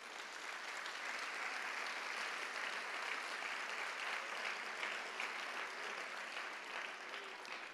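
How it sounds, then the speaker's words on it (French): A concert audience in Guadeloupe applauds steadily for nearly eight seconds, a dense, even wash of many hands clapping at close range with no voices rising above it. "Donc je vous demande de les applaudir."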